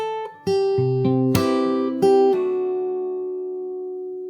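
An acoustic guitar plays a short fingerstyle phrase, several plucked notes and chord hits in quick succession before a last note rings out and fades, with no talking.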